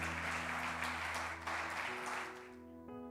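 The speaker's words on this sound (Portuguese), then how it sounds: "Pode aplaudir Jesus." A church congregation applauds during a sermon, a dense, even wash of clapping that gradually fades as sustained music tones take over at the end.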